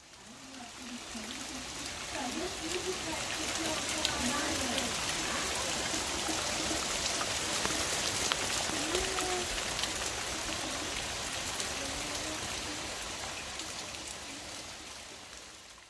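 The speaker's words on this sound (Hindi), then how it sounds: "इतनी बारिश हो रही है, अभी मैं आपको दिखाती कितनी ठप ठप बज रही है" Heavy rain pours down steadily outside, a dense, even hiss and patter that holds at one level throughout, with faint speech murmuring underneath.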